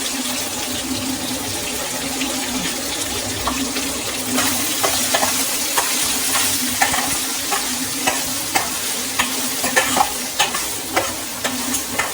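Okra pieces fry and sizzle in a wide pan, with a steady crackle under repeated scraping and clicking strokes of a stirring utensil that grow more frequent toward the end, close by and with nobody speaking.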